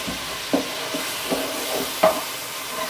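Tomatoes and masala cook in a pan for bhindi masala, a steady close sizzle with a few soft stirring scrapes and clinks of a spoon against the pan at irregular intervals.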